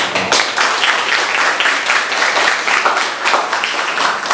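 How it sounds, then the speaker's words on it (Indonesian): Audience applause fills the room, dense and steady clapping from many hands, close and loud throughout. "Tepuk tangan."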